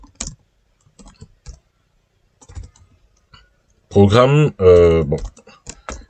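Quick, light taps on a computer keyboard come in short scattered bursts, with a person speaking briefly near the end.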